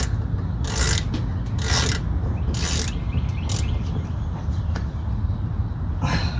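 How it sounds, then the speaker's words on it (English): A ratchet tightens the wheel bearing bolts on a 2013 Honda CR-V EX-L, giving short bursts of clicking up close over a steady low rumble in the workshop, with no talking. "just get them tight or torque them to 17 foot-pounds if you have a 4th gen"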